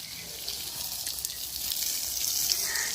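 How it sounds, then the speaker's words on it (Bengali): Water sprays from a hose across a hostel garden, a faint continuous hiss that grows slightly louder toward the end. "আমাদের আঙ্কেল আমাদের বাগানে জল দিচ্ছে এখন।"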